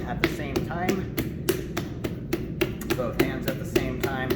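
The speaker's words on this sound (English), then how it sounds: "I'm going to take both my hands and I'm going to start clapping the clay at the same time." Both hands slap wet clay on a spinning pottery wheel in a steady run of sharp, evenly spaced claps, about three per second, close and clear, with a low wheel hum underneath.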